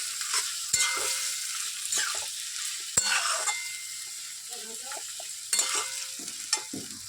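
Red amaranth greens and shrimp with salt and turmeric stir-fried together in a pan: a steady, close sizzle, broken by sharp scrapes and clacks of the spatula at irregular intervals.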